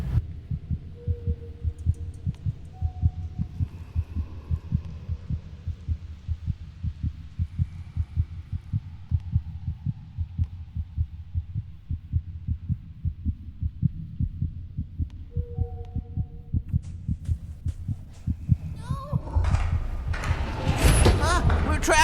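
Steady, rhythmic heartbeat thumps throb low and close throughout a tense scene in the horror game Among the Sleep, over a faint hum, ending in a loud noisy burst.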